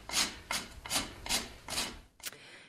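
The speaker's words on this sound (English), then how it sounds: "You could hear the file going or the rasp in the background there" A farrier's rasp works a horse hoof in five slow, even strokes and then one short one. Each stroke is a dry scrape, faint and close by, with nothing else behind it.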